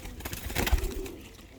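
Pigeons coo in a soft, low murmur close by, with a brief louder rumble in the middle and a steady background hum.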